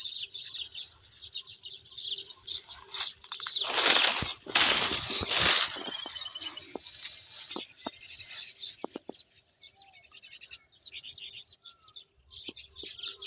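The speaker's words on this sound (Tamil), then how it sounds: "நம்ம கொல்லையில் எவ்வளோ சிட்டுக்குருவி இருக்குது பாருங்கள்." Sparrows chirp in a backyard, a busy flurry of high, thin tweets with a louder burst of calls in the middle, then scattered quieter chirps.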